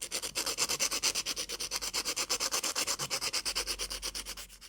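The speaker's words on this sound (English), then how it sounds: "So I filed those ends" Sharp wire ends on a small bead frame pendant being smoothed with a nail file or fine sandpaper, making a fast, even back-and-forth rasping rub, close and continuous throughout.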